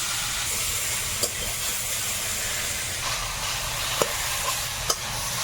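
Potatoes fry in oil for dal, making a continuous hissing sizzle with a few sharp clicks from a spoon stirring against the pan.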